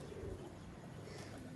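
A pigeon coos softly and low, a faint, close murmur of throaty calls with a slight chirp near the end, set against quiet background hiss.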